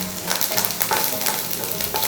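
Vadagam fries in hot oil for a tempering, giving a loud, close, continuous sizzle with bubbling crackles and no voices.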